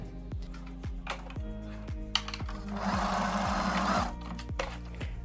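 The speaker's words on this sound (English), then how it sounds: "I'm just going to secure it at that end with my sewing machine" A sewing machine top-stitching a summer dress in steady rhythmic bursts, its needle thumping repeatedly, with a louder whirring stretch in the middle, close and clear.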